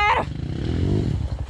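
Honda CRF 230F dirt bike on a trail, its engine revving up in a rough, throaty surge after a brief clatter, loud and close, no speech over it.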